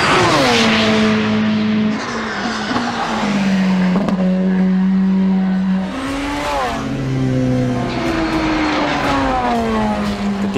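A Porsche 919 Hybrid Evo race car drives loud and close. Its high engine note climbs and drops repeatedly as it accelerates and shifts through the clip.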